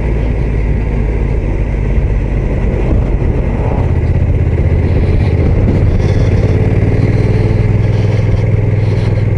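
Honda NT1100 DCT touring motorcycle, 1100 cc engine shared with the Africa Twin, running close by with a steady loud mechanical drone and low rumble, pitch shifting slightly partway through.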